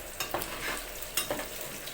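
A little tomato paste fries in leftover meatball fat, sizzling steadily under quick stirring strokes that scrape and clack against the pan a few times.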